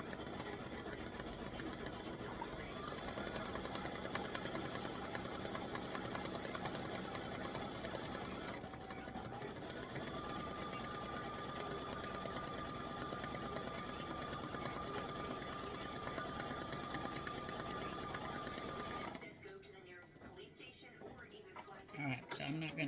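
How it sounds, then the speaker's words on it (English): Embroidery sewing machine satin stitching letters in black thread, a continuous close mechanical whir with a steady rapid pulse that runs for about nineteen seconds before it stops and quieter handling noises follow. "And it is in satin stitching. It's not a fill."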